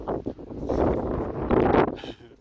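Gusty outdoor wind buffets the microphone in a loud, rumbling rush that swells twice over a couple of seconds, with no voices present.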